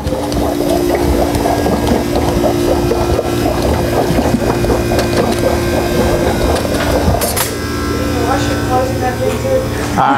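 Frozen dessert machine running steadily with its refrigeration switched on, a constant mechanical hum and motor drone filling the whole stretch with people talking over it.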